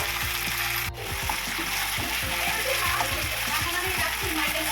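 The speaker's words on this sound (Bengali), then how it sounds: "এবার আমি মাছটা দিয়ে দেবো।" Fish goes into a pan of mustard masala already frying with turmeric and salt, giving a continuous close sizzle and bubbling with faint scraping stirs, while a voice talks in the background.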